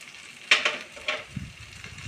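Murrel fish (koramenu) curry ingredients with salt and mint leaves fry in a pan as they are stirred, giving a close, steady sizzle with a few scraping stir strokes.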